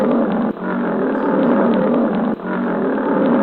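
A lion roars in a sustained, rough, broadband bellow that stays loud and close for the whole stretch, with two brief dips where it catches breath.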